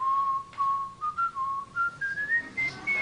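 A whistled melody plays from a recording, a clear, steady tune rising gradually in pitch over about three seconds, heard alone with no talk.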